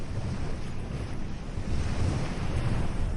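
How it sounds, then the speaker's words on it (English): Wind and ocean waves along a Caribbean beach shore in Antigua and Barbuda, a steady low roar of surf with gusting wind buffeting the microphone, swelling slightly louder in the second half, no voices. "can hear nothing but wind and waves"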